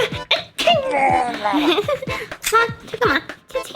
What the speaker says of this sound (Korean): 왜 재채기 하는 거 가지고 그래?